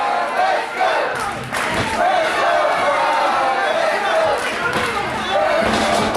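Stiff kicks land on a wrestler in the corner at an indie wrestling event in Barnesville, several thuds mixed into loud crowd noise and yelling, with a commentator talking over it.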